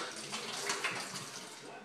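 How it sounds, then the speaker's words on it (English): A steady rush of spraying hot water, broadband and continuous, as a bottle jet washer blasts the inside of a home brew bottle, close and fairly loud throughout. "So first step, we're going to take the bottle on the bottle jet washer."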